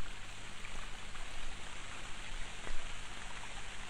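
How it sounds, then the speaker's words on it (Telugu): A shower runs in a bathroom with a steady, close, even hiss of falling water and no clear breaks. "షవర్ సౌండ్ వస్తుంది"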